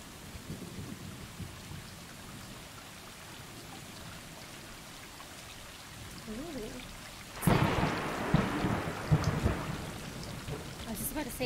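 Soft patter of rain in the video game Stray, with a faint low rumble, swelling suddenly into a louder downpour with thunder partway through; no voices.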